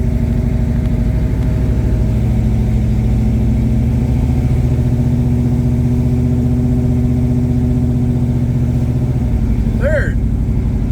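A 1979 Pontiac Trans Am with a TH350 automatic transmission drones loudly and close as it pulls through its gears, a steady engine tone that shifts near the end, with a voice faintly over it.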